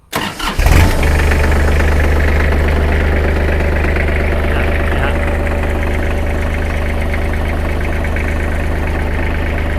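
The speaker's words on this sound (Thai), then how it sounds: "จะลองติดเครื่องดูครับเครื่อง เครื่องดังเพาะนะครับดังเพาะ" A Kubota L3408DT tractor's diesel engine from 2008 cranks briefly, fires up and settles into a steady, loud, rumbling idle close by, with no talking.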